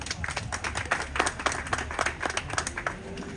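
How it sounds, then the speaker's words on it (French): Audience applause at a wrestling event, a dense spread of hand claps with scattered louder strikes, steady and fairly close for a few seconds. "on peut l'applaudir"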